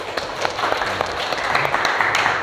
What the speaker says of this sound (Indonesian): Beri aplaus untuk Jaka.